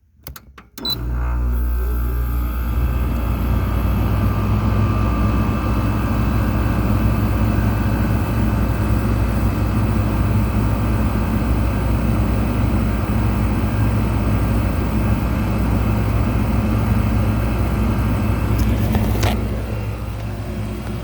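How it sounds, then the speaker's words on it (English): An air conditioner's Queen compressor kicks on abruptly and settles into a loud, steady hum and whoosh of running machinery with a fan's airy roar, continuing unbroken. "it uses a Queen compressor. And let's start it up."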